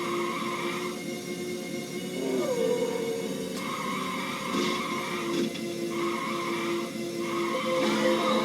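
Tires squealing and skidding in the Virtua Racing video game, repeated screeching bursts over a steady engine drone, fairly loud with no talk.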